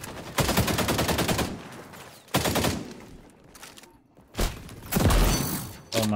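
Gunfire in the video game XDefiant: bursts of rapid automatic shots, several separate volleys with short pauses between, loud and close.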